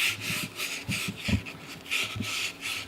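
Sandpaper is rubbed by hand inside a wooden boot in quiet, rhythmic back-and-forth strokes, with each pass making a soft, breathy scratching.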